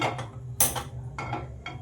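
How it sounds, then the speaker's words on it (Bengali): A metal frying pan being set onto a gas stove in a home kitchen, giving a few short clanks and clattering knocks at close range over a low steady hum. "একটা প্যান বসিয়ে দিয়েছি।"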